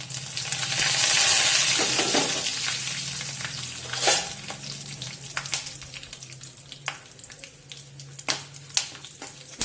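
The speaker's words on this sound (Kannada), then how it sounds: "ಸ್ವಲ್ಪ ಉದ್ದಿನಬೇಳೆ, ಇವಾಗ ಸ್ವಲ್ಪ ಕರಿಬೇವು ಹಾಕ್ತೀನಿ ರೀ" Curry leaves and urad dal, with peanuts, frying in hot oil: a loud, dense sizzle that swells early, then settles into steady crackling with sharp pops and a few clinks of stirring.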